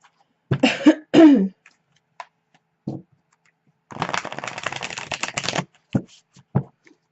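Tarot cards are shuffled up close, a brief riffle followed by a longer rapid flutter of cards, with coughs and throat clearing and small handling taps around it.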